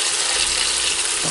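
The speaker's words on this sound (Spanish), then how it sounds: "Echamos la cerveza así, natural." Beer poured into a hot pan with chicken, giving a loud, steady sizzle and hiss of frying that stays even and continuous for the whole moment.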